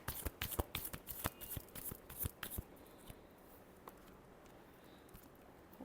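Tarot cards are shuffled up close, a few seconds of rapid, crisp flicking snaps that then give way to near silence with only a couple of soft taps.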